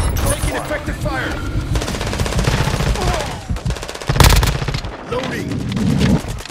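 Loud, rapid automatic gunfire in Call of Duty MW2 multiplayer on PS5, dense overlapping bursts with a heavy blast midway, game voices and shouted callouts mixed in underneath.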